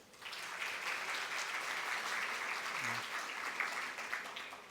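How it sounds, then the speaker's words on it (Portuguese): An audience at a regulatory affairs conference gives a round of applause, with fairly quiet, even clapping sustained throughout. "Uma salva de palmas, pessoal."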